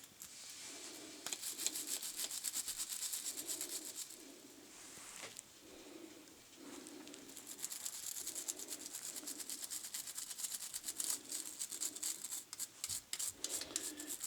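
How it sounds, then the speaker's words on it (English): A scrubber brushes lightly over an Ibanez Edge tremolo with almost no pressure, giving soft, rhythmic rasping strokes close up, with faint bird calls in the background. "That's the main purpose for using the scrubber here."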